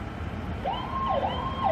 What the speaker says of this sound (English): Here's the sounds of sirens.